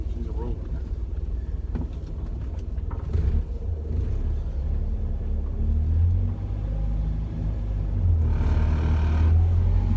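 A 1970 Morris Minor drives along with a steady low engine rumble and road noise heard from inside the cabin, close and continuous, while people talk over it.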